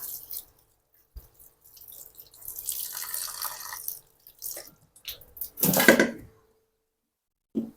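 Water splashes and runs from a tap in short bursts as moringa leaves are rinsed by hand, with a louder gush near the end.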